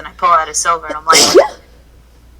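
A person talks briefly, then gives one loud, close sneeze that ends abruptly into quiet.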